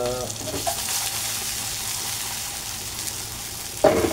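Hotdogs fry in a small amount of oil with a steady, soft sizzle running throughout, and a brief clatter comes near the end.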